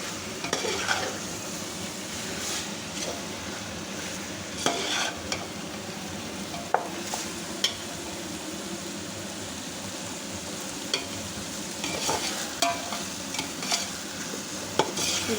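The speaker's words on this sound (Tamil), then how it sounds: "இப்போ வந்து இந்த மட்டனை வந்து நல்லா இந்த மசாலாவோட கொஞ்சம் நேரம் ஒரு 10 நிமிஷமாவது நல்லா வதக்கிக்கோங்க." Mutton sautés with masala in a pan, a continuous sizzle of frying broken by scraping and clicking as a spoon or spatula stirs the meat, close and clear with no talk.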